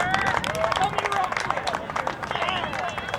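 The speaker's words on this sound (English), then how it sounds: "As we have cheering behind us from the Seattle group" A crowd cheers and claps at a girls' football match between Seattle-Sacramento sides, a lively spread-out noise of voices and scattered applause under close commentary.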